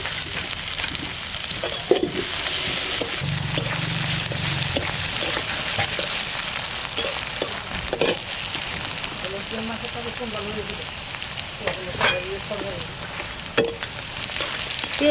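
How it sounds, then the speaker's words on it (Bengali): Chopped onions fry in a pan of oil left over from frying tilapia for a curry, giving a continuous sizzle with occasional stirring clatter and a few faint background sounds. "পেঁয়াজটা একটু লাল করে ভাজছে"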